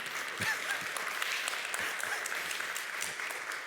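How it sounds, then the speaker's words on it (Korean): Applause rises from a church congregation during a Korean Sunday sermon, a moderate, even patter of many hands clapping together, steady from start to finish with no talking. "누군지 모르는 그분에게 박수 한번 줄까요?"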